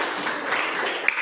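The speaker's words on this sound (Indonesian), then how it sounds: "Berikan aplaus buat kelompok 3." Students in a classroom applaud a group. A dense, steady wash of clapping from many hands lasts about a second.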